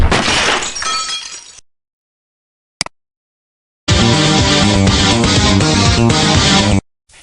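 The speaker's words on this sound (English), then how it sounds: "Spidey smashes through a boarded-up window." A boarded-up glass window smashes in the 1995 Spider-Man interactive CD-ROM comic game, a loud crash followed by silence, a brief clink, then a long, dense shattering that stays loud and ends abruptly.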